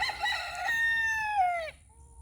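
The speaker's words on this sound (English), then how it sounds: "as you can hear, my chickens are all going crazy" A white-crested blue Polish rooster crows once, close and clear, among chickens in a Florida homestead garden, the call ending in a falling tail with faint clucking after.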